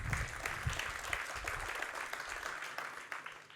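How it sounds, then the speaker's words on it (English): Audience applause at a Luxembourg private equity and venture capital event as a CEO is called on stage: a dense wash of many hands clapping, fairly faint and steady, thinning slightly toward the end, with no voices over it. "give him an applause"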